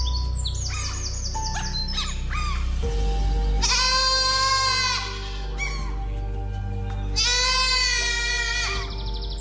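Mountain goats bleating in drawn-out, wavering calls, two loud cries separated by quieter bleats and chirpy sounds, close by over a low rumble.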